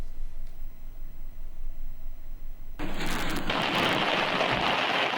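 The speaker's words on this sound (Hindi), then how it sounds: "लाहौर में आज भी मूसलाधार बारिश हुई है।" Heavy torrential downpour in Lahore, steady and loud throughout, surging sharply louder about halfway as the rain intensifies into a dense, roaring wash on surfaces.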